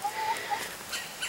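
Chickens cluck and call faintly inside a chicken coop on a small homestead, a few short bird calls over a soft, steady background hiss.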